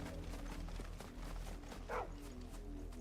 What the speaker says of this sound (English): What you barking at, puppy?